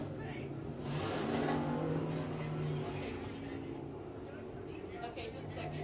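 IMCA hobby stock race cars running hot laps at Dawson County Raceway, a steady roar of several engines revving around the dirt track, loud and continuous.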